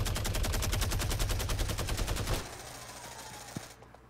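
Rapid automatic gunfire in Fortnite Mobile rattles in a steady stream for over two seconds, then cuts off, leaving a quieter background with a single faint shot near the end.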